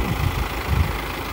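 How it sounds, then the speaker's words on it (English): Farm tractor idling ahead of sprayer calibration, a steady low diesel rumble close by with a faint uneven throb and nobody speaking. "I'm gonna put the tractor up to PTO speed, turn on the booms"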